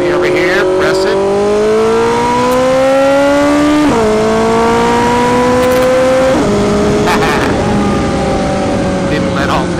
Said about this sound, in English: press the horn button, and the bike's going to shift like magic